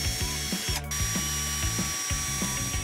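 Rapid ratcheting clicks from a hand tool driving mounting hardware while an industrial hand cleaner dispenser is installed, loud and close in quick repeated bursts, with one brief sharper knock.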